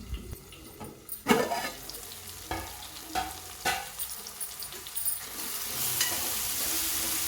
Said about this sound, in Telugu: మూత వేసుకుని టమాటాలు రెండు నిమిషాలు మగ్గనివ్వాలండి